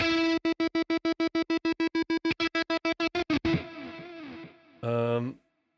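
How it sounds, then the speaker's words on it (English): A repeated synth note is chopped into rapid, even stutters, then a final hit trails off into a washy reverb tail, followed by a short burst that cuts off. "we've got the reverb throw, and we've got the stutter"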